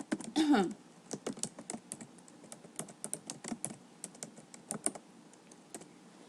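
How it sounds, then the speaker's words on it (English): Rapid, uneven clicks of typing on a computer keyboard, close and clear, with a brief voice-like sound at the start and steady keystrokes continuing throughout. "Let's type in a title."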